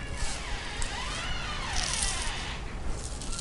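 Dense, steady crackling and sizzling of curry leaves dry-roasting in a pan, close and continuous with fine popping throughout.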